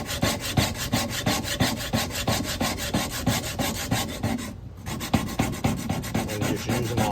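Rhythmic strokes of a skinning knife being sharpened to raise a burr, steady back-and-forth scraping and rubbing with a brief pause midway, close and fairly loud with no talk.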